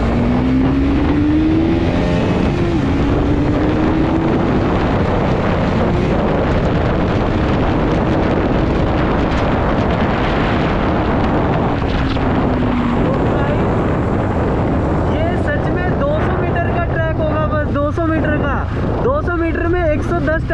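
A 2022 Bajaj Pulsar NS200 motorcycle engine revs hard and accelerates close by, a loud continuous roar with rising pitch sweeps, buffeted by wind noise throughout.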